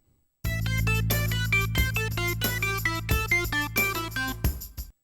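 A keyboard plays a series of crisp broken triads stepping downward, each note clearly separated over a low sustained bass, ending with a fade.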